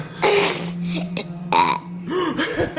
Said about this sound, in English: My mom's burping.